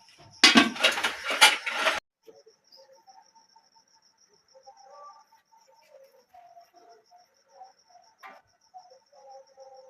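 Dishes and pots handled and put away in a village kitchen: a short burst of clattering metal and ceramic up front, then sparse light clinks and taps against a quiet background with faint chirping.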